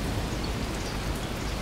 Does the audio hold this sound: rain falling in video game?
yes